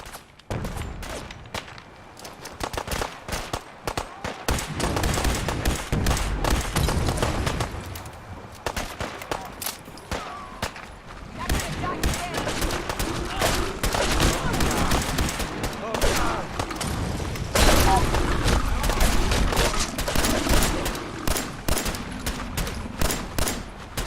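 Gunfire in a Fallout 4 battle against Gulpers, with dense, continuous rapid shots and bursts that build in intensity over a long stretch while voices shout beneath the firing.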